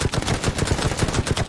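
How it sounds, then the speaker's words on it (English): Rapid gunfire from the PC shooting video game Striker Zone Mobile, a steady stream of evenly spaced shots filling the whole stretch, loud and close with no talking. "It's a cool little PC shooting game, man."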